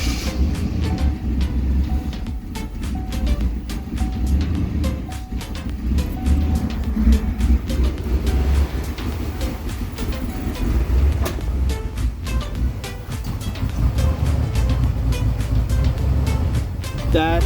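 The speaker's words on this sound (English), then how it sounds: "That is an idling town car." A 1988 Lincoln Town Car fitted with a Mustang engine idles nearby, a steady low rumble holding for the whole stretch, with scattered clicks and light background noise.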